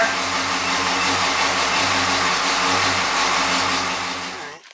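A freshly started car engine runs rich on a choke that won't pull off, its electric pull-off not yet connected; a steady, loud rumble idles continuously, then fades out near the end.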